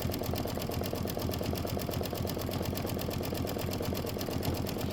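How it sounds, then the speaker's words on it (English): An embroidery machine works steadily through a long stitch-out, its needle pounding in a fast, even rhythm with a constant motor hum, loud and close with no pauses. "I'm 14 minutes into a 43-minute stitch out."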